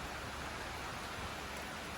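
Steady rain falls as a continuous, even hiss of drops at sunset, faint and unbroken throughout with no voices or other sounds.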